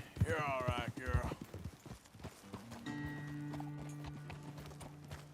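Hooves clip-clop at a slow walk in the video game Red Dead Redemption 2, with a horse's whinny and a voice early on, then a sustained musical drone underneath.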